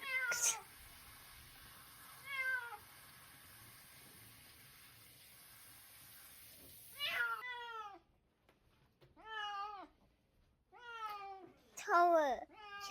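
Several cats at a grooming salon meow and yowl in separate bursts, some drawn out and wailing, against a quiet background with a steady hiss of running water at the start.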